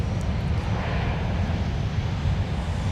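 Prime Air airplane taxiing at MSP airport toward a departure runway, a steady loud jet engine roar with broad rumble and hiss, continuous and fairly close.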